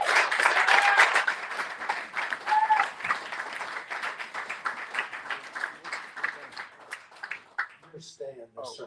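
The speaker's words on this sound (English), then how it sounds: "a round of applause for Gordon Quinn" Round of applause for Gordon Quinn at a documentary talk event, a dense crowd clapping that gradually thins over several seconds, with voices and cheers mixed in toward the end.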